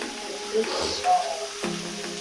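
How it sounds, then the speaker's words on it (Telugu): Tomato frying and being stirred in hot oil for a bachelor-style mutton curry, a continuous close sizzle with occasional scraping stirs and a few faint tonal kitchen noises. "బాగా నూనెలో కరిగిపోయేంత వరకు అట్లా కలిపెడుతూ ఉంటే వాడిపోతుంది"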